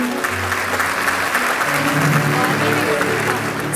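An audience claps at a Rotary club professional awards ceremony in Mersin as a governor is called to the stage. The applause is broad and continuous over a low hum, with a few voices mixed faintly underneath.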